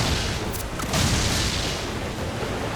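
Ship cannons fire in a naval battle in Assassin's Creed IV Black Flag, a dense run of loud booming blasts over continuous wind-and-sea roar, with shouted crew commands mixed in.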